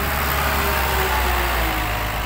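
A tractor engine drones steadily and loudly at low pitch, a constant labored rumble with no pauses, as it strains and fails to pull a dump truck stuck in mud.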